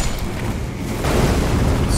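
A deep, rumbling explosion in Elden Ring Shadow of the Erdtree, a dense low boom that swells and holds loudly for about two seconds.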